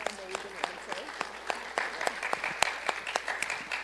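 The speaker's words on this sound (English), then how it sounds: "I just want to give you a round of applause for that." An audience applauds during a civics discussion event, with sharp irregular claps from a modest group, fairly close and steady throughout, with no talk over it.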